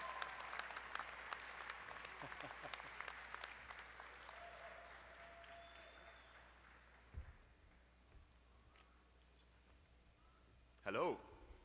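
Audience applause at a medical school commencement ceremony, a dense clapping wash for the first few seconds that fades out, leaving quieter room sound with a brief thump and a short louder burst near the end.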